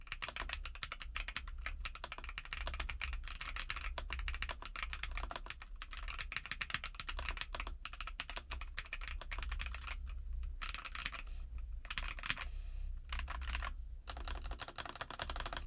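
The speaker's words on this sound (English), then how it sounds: "The gasket mounted typing feel, which is incredible, so let's listen to that now." Steady, continuous typing on an RK A72, a 68% ergonomic gasket-mounted mechanical keyboard, with dense rapid keystrokes close up and a few brief pauses, no voices.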